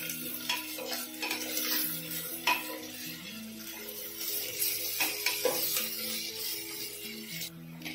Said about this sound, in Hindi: अब प्याज को हम गोल्डन ब्राउन होने तक भून लेंगे।